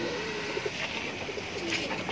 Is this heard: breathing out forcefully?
no